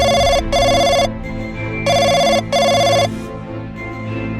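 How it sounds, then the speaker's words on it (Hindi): Telephone ringing in a room, loud bright electronic rings in two pairs of bursts separated by a pause, each burst sharp and buzzy with a quieter hum between rings. "इधर गुल्ली बुल्ली कंप्यूटर पर हॉरर वीडियोस देख रहे थे और तभी इनका टेलीफोन बजने लगता है।"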